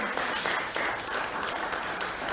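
Congregation in a church service claps in a dense, even burst of applause, loud and close, lasting a couple of seconds with no speech.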